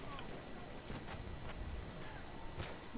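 Horse hooves in Battlefield 1 cavalry gameplay on the Suez map, a quick clip-clop rhythm amid dense battle noise, with a voice speaking over it.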